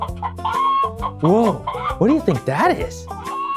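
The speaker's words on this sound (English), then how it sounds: "That's a chicken." A chicken clucks in a run of loud, close, rising-and-falling squawks, with a person's voice heard briefly at the start.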